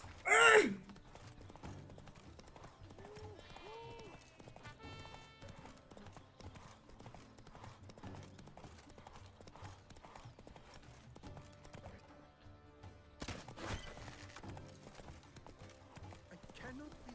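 Hooves of Roach, a horse galloping in The Witcher 3: Blood and Wine, a steady rhythmic clip-clop running throughout, with a loud thump near the start, occasional game sounds and a person talking over it.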